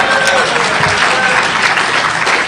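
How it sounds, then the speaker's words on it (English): A conference crowd at a hacker convention bursts into loud, dense applause, close and continuous throughout with scattered cheers, no talking over it. "Applause."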